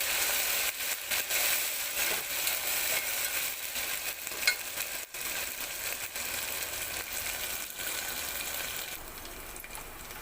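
Ginger garlic paste frying with onions in a pan for an aloo chana curry, a continuous dense sizzle with repeated scraping and stirring clicks, close and alone.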